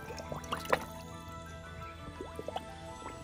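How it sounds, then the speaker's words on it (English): Water rinses out the cleaned cavity of a small reef fish, sounding as close wet splashes and dribbles with a few sharper drips and squishes, at low level over quiet background. "And then we'll do a rinse."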